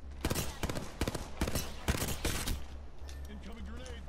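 Gunfire in the battle-royale shooter Apex Legends, a rapid series of sharp shots in bursts with brief gaps, loud and near, followed by quieter game sounds.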